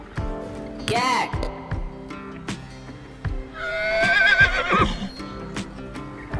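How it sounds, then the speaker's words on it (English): A horse whinnies loudly and shrilly, then a second long neigh follows with clopping hoof sounds scattered throughout, close and clear. "horse,"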